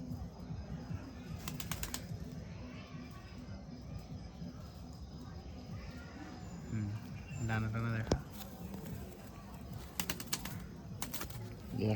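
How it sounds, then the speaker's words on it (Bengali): Three pigeons at a pigeon-selling spot flutter down to land, with bursts of flapping wings and soft cooing, while someone talks over them almost throughout. "এই যে পায়রাগুলো এখন নামবে তিনটে পায়রা আছে"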